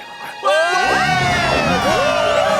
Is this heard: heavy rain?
no